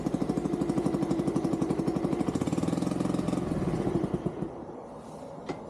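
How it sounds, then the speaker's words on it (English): A Honda Dax 50cc motorbike engine idles with its exhaust removed, giving a loud, rapid, raw putter that runs steadily and then dies down toward the end. "You can hear how I finally got it running, but it only idled."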